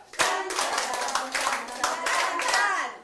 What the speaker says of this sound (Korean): 박수 일곱 번 시작!